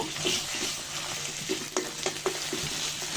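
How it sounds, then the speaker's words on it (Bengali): Raw ginger, garlic and cumin paste fries in a pan, producing a steady close sizzle with scraping stirring strokes and occasional spatters; no talk. "কাঁচা মশলাটা ভালো করে ভেজে নেব।"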